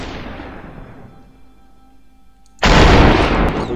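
A single loud, booming gunshot in the video game Superhot bursts in after a stretch of quieter ambience, its crack and rumble ringing out to the end.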